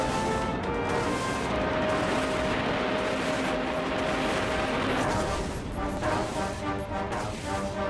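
Missiles launching and exploding in the naval combat video game Dreadnought, a dense, continuous roar of blasts and booming fire with crackling impacts layered together, loud throughout and easing slightly near the end.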